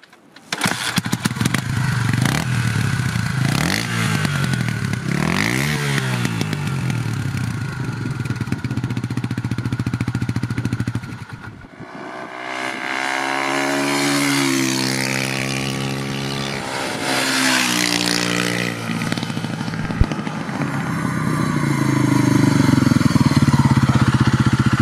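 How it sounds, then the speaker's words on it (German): Honda CB 250 RS motorcycle, 1980 model year, on a test ride: its engine revs up and down through gear changes, rising and falling with steady throttle, loud and close throughout. "Probefahrt mit der Honda CB250 RS, Benzinhahn ist offen, Schok ziehen,"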